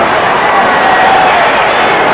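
A packed stadium of 66,000 at the 1980 Fiesta Bowl in Phoenix, Penn State against Ohio State, lets out a dense, steady roar of cheering and scattered clapping, loud and continuous, with a voice talking faintly under it.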